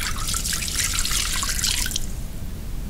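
Water runs from a tap into a pot in a bright, splashing stream for about two seconds, then cuts off, leaving a quieter room rumble.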